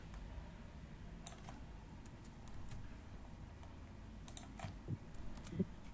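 Keystrokes on a computer keyboard tapped out one-handed, light and irregular clicks in sparse bursts over a steady low room hum, fairly quiet and close, with no talking.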